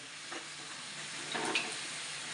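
Puri dough frying in hot oil, a steady soft sizzle running throughout with a couple of brief bubbling bursts as it puffs, nearby and moderately quiet.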